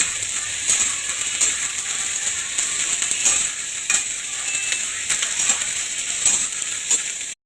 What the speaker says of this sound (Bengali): তারপর বেগুনটাকেও ভেজে নিলাম।